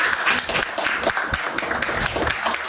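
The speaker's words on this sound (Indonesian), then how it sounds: "Tepuk tangan untuk Devita." Classroom applause for a student who came to the front, a short patch of close, uneven clapping from a group of pupils, with faint voices mixed in.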